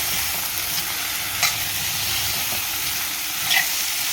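Mixed vegetables, chickpeas and peas stir-fried in masala for a traditional Marathi winter bhogichi bhaji, giving a steady sizzling hiss with faint scraping stirs throughout.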